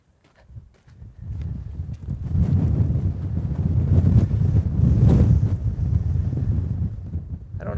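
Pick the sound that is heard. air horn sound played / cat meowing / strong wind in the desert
strong wind in the desert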